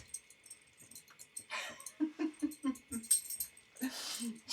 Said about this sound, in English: This is our doggy.